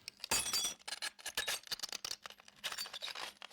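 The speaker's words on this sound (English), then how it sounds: "we coupled that with taking another piece of glass and grinding it down into the shards of the other ones" Glass shards being broken and ground together for a tower sound effect in Lord of the Rings, a dense run of crunching, clinking and scraping with sharp bursts, close and continuous.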